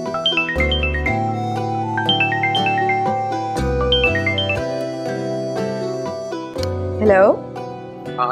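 A melodic electronic phone ringtone plays loudly in a repeating pattern, with a brief warbling tone near the end.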